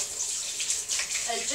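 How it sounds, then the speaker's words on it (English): Cold water runs from a kitchen tap over hands, a steady close splashing hiss with no soap and no talking. "wash your hands under cold water"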